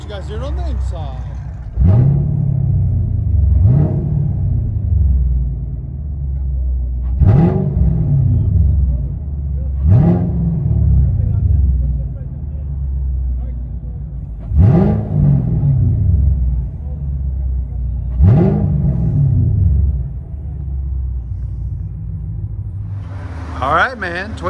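A cammed 2016 Chevy Camaro SS with a 6.2L V8, long-tube Hooker headers, Hooker exhaust and no cats, revving loud and close in a series of about seven sharp blips over a choppy, lumpy idle.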